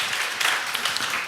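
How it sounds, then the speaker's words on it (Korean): Congregation clapping in a church during a Korean college-group worship service, a dense burst of applause heard alone at close range. "하나님께 영광의 박수 올려드리겠습니다."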